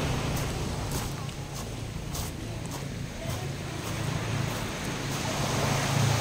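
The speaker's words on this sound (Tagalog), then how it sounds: "Uy, ang ingay na ng dagat." Continuous roar of sea waves washing in at a beach in Lobo, Batangas at night, a broad loud rush with gusty wind noise and occasional faint voices.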